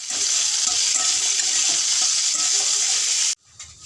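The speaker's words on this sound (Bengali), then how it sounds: "গাজর আর ক্যাপসিকাম আমি ভেজে নেব। এখন লবণ দিয়ে ভাজবো।" Carrot and capsicum fry with salt in a hot pan, giving a loud, steady sizzle with stirring scrapes throughout before it cuts off abruptly near the end.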